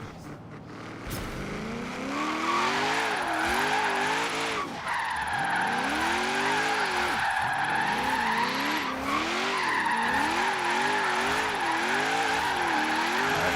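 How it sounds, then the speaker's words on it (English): Continuous loud car engine revving at a drift track, with wavering engine pitch and sustained tire squeal as the car slides through a qualifying drift zone, running steadily for the whole stretch. "40-mile-an-hour roll to the drift zone, and then you'll accelerate"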